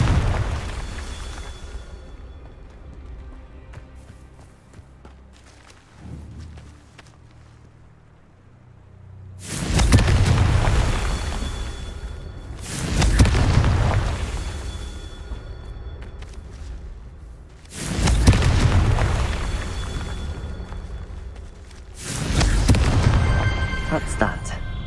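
Four loud, booming explosions from the fire spell cast in the Hogwarts Legacy video game, each a heavy blast with a rolling tail, spaced a few seconds apart after a quieter stretch of game ambience.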